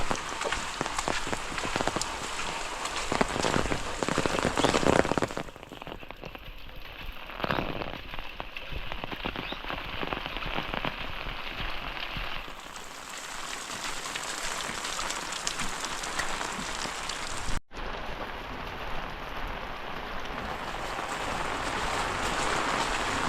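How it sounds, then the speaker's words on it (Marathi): Heavy monsoon rain pours down steadily in a rural Konkan village, a dense close hiss of drops hitting surfaces that briefly lightens in the middle before coming back hard. "नुसता झोंबवतोय पाऊस."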